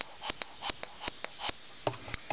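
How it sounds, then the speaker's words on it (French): Quiet, close-up puffs and soft ticks repeat in a quick irregular rhythm from a Briggs & Stratton lawnmower engine's crankcase breather valve fluttering open and shut. "Voilà ce que fait un reniflard sans arrêt."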